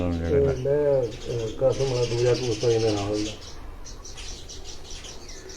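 Breeding pigeons on a rooftop give soft coos and chirps, close by. A voice talks over the first half, and quieter bird sounds continue afterward.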